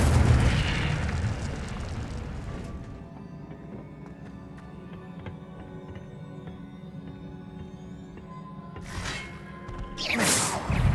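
A single loud fiery burst from the Incendio spell in Hogwarts Legacy opens the moment, then fades into a low ringing hum before a couple of smaller flares return near the end.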